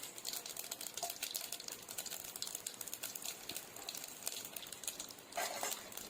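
Mustard seeds and dried red chillies fry in hot oil for a Tamil herbal rasam, giving a faint, dense crackle of rapid tiny pops that runs on continuously.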